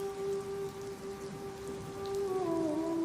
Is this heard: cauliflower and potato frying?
no